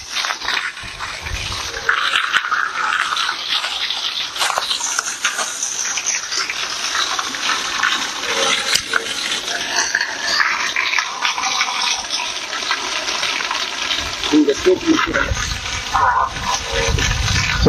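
Water pours and gushes down steadily in a waterfall bath, a loud rushing wash throughout with brief splashes and faint voices in the background.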